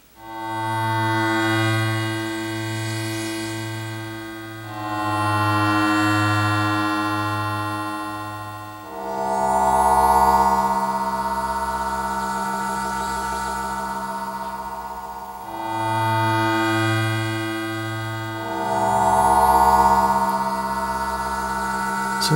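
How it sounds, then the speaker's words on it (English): Sustained, metallic FM synthesizer tones from a Hydrasynth using Yamaha FM algorithms, in a low register, pulsing and shifting in timbre, with wobbling bell-like overtones; no voices. "what you're hearing right now is that the FM sounds can produce a lot of randomness"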